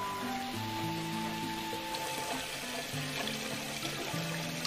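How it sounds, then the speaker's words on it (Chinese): Blanched pork ribs are rinsed clean in water, with splashing and pouring sounds, gentle sloshing and dribbles close by in a kitchen, steady and unaccompanied by talk. "把焯水的排骨清洗干净"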